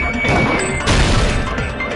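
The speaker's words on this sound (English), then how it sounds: "If it wasn't the window, then what broke to make that sound? A vase." A vase shatters in the video game Danganronpa 2, a loud close crash with a burst of breaking and scattering debris that fades into a ringing tail.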